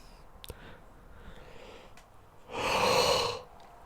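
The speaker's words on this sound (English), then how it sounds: "I yawned. That was a yawn." A single human yawn, a long breathy exhale swelling up and fading away, heard close and alone after some faint shuffling.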